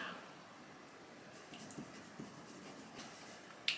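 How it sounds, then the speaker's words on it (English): A pen scratches out a handwritten note, soft intermittent strokes and faint scribbling taps that are quiet and close, ending with a sharper tap or clatter. "Let me write that down."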